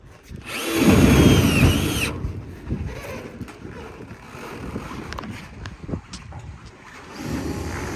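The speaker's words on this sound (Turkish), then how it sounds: "Sonra matkapla vidalar atıyoruz arkadaşlar" A power drill driving screws on a cattle farm whirs loudly for about two seconds, then quieter handling clatter and scraping follow, with a second drill burst starting near the end.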